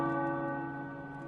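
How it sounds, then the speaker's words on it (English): Tower bells in the game Marvel's Midnight Suns sound a sustained, resonant tone that carries through and fades slowly, heard on their own without speech. "The tower bells are ringing."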